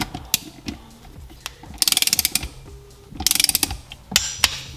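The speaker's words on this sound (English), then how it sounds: "those are all torqued down" A torque wrench tightening bolts on a Seadoo 717 engine clicks in quick ratcheting bursts, several rapid runs of sharp clicks separated by single knocks and handling noises, close and clear.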